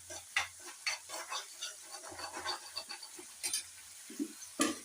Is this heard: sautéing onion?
yes